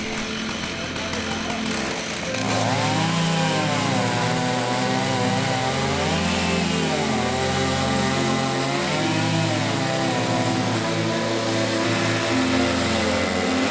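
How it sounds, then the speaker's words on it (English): A chainsaw fitted with an Alaskan mill cuts a level top slice along a log, starting after a brief quieter moment and then roaring loud and close with a steady, slightly wavering engine drone under load. "We set our Alaskan mill, cut a level top cut."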